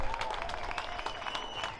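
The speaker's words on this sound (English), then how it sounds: "So can we keep clapping, guys, for these people?" A crowd at an outdoor 15-minute city protest in Oxford claps steadily, a brisk, fairly close patter of many hands with no pause.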